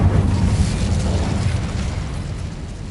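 A blast from the Incendio fire spell in the Hogwarts Legacy video game: a loud, booming burst of flame that roars at full strength, then trails off in a rumbling wash across three seconds.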